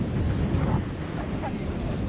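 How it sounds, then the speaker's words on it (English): Wind at Cannon Beach blows across the microphone, a steady, dense low roar with no pauses and no audible speech. "it's really windy"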